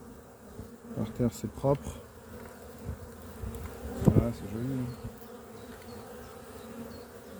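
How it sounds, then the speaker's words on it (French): Honeybees hum steadily around an apiary hive during a spring inspection, a low continuous buzz beneath brief bursts of nearby movement, while someone speaks French now and then. "les abeilles sont belles là"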